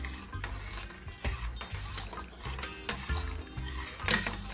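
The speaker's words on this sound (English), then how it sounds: "And give it a stir." Seasoned chicken feet and backs stirred in a pot for island-style soup, a spoon scraping and knocking the pot in a few slow strokes over a faint sizzle, close by and without talk.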